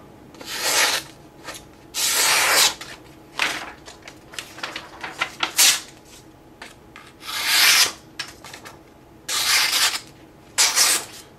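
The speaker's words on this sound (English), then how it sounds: "another hit on the deburring stick" A knife edge is drawn across a deburring stick in repeated short, raspy strokes, close and fairly loud, in uneven bursts separated by brief pauses, with no talking.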